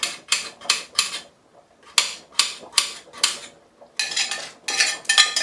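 Knife chopping through a whole chicken on a board for homemade broth, a run of sharp, close chops in quick bursts of three or four with short pauses between, no talk.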